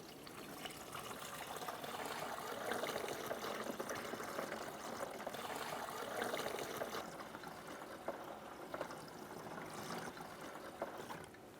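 Coolant being poured into the radiator overflow tank of a 2001-2005 Ford, a soft continuous liquid trickle and gush, faint and steady throughout.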